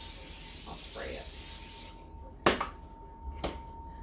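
Cooking spray spritzed onto a Pampered Chef baking stone in a home kitchen, heard as two or three short, sharp hissing bursts after a steady background hum, close and fairly loud.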